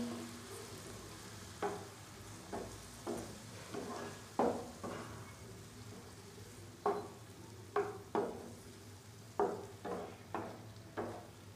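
Browned chicken being stirred together with two tablespoons of yogurt in a hot pan for fajita pizza, with a steady background sizzle and about a dozen distinct scraping strokes of the spoon at irregular intervals, close and moderately loud.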